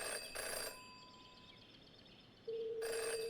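A telephone rings in the detective video game Jenny LeClue, two clear electronic ring bursts separated by a quiet pause with a soft musical tone, close and fairly loud, with no talking.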